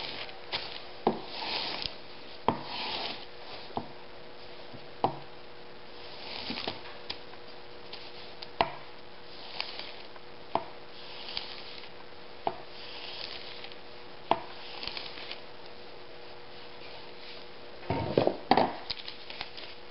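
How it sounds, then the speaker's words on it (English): A steel woodworking chisel stropped on newspaper, giving soft, faint rubbing strokes punctuated by sharp regular taps as it is worked back and forth, quiet and close with no talk. "not the easiest way to strop or the fastest, but it's readily available."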